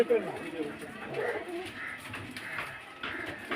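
Pigeons kept for sale coo softly in short repeated phrases at close range, under a voice speaking throughout.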